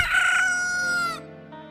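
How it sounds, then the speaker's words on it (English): Chickens in the Zelda: Majora's Mask video game let out a loud, drawn-out rooster crow with clucking, heard up close with no voices over it. "Look at all your chickens!"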